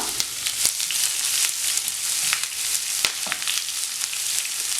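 Sliced onion and cluster beans sauté in a pan, a dense, steady sizzle with scattered pops and stirring scrapes close by, no voices.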